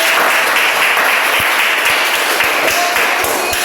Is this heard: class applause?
yes